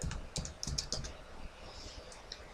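Computer keyboard typing during a software installation walkthrough: a brief burst of close, quiet key clicks, several quick taps in the first second and fainter scattered presses after.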